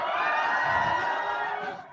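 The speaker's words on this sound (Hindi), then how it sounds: "एक बार जोर से चिल्लाओ, चलो चलो जोर से चिल्लाओ" A group of students shouts loudly together in a classroom, a sustained, dense crowd yell that holds for about two seconds before trailing off slightly at the end.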